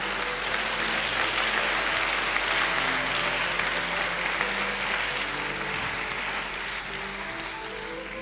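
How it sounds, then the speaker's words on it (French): Applause at a French-language church service swells and holds as a steady wash of clapping from a congregation, fading slightly toward the end. "Acclamons pour la parole du Seigneur."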